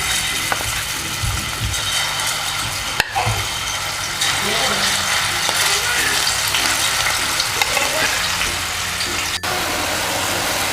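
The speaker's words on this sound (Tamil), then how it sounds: "இப்போ இறாலை நம்ம பொரிக்கிறதுக்கு எண்ணெயில் போட்டுக்கலாம்." Steady, loud sizzling and crackling of prawns frying in hot oil, continuous throughout with faint background noise.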